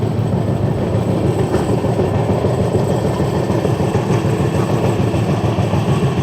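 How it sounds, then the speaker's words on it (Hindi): The Samleshwari Express heading toward Howrah thunders past close by, a loud, continuous rumble and clatter of wagons over the track that holds steady throughout, with no voices. "ये समलेश्वरी एक्सप्रेस हो सकती है। हाँ, समलेश्वरी एक्सप्रेस ही है। ये हावड़ा की तरफ चली है।"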